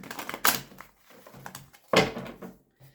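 Two quick bursts of tarot cards being riffled and snapped together, close up, with softer shuffling rustles in between.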